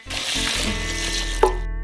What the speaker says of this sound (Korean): 물 2리터를 채우고